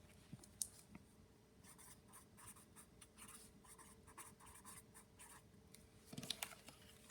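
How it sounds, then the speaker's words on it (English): Faint, quick scratching strokes of writing on paper, close up and quiet, in short bursts with small taps, alone without talk. "So let's go ahead and write down that definition."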